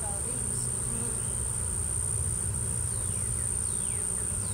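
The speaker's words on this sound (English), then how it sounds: "Still bees flying around." Bees from a honeybee swarm fly around nearby in a faint, steady buzz against a continuous high insect whine and low background hum, with no talking.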